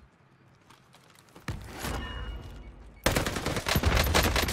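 Shooter game gunfire grows from scattered clicks into heavy bursts of rapid automatic fire, loudest near the end, while a voice speaks briefly over it.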